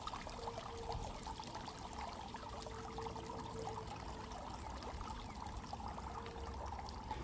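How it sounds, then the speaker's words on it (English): Water drains out of a pool vacuum beside a pool, a faint, steady trickling pour that runs throughout at a low level, with no talking. "Let it drain out the water over here at the pool."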